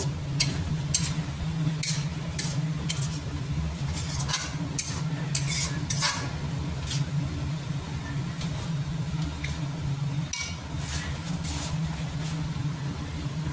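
Chicken is sautéed and stirred in a pan for chicken rice: a continuous close sizzle under a low steady hum, broken by repeated quick spatula scrapes and clinks.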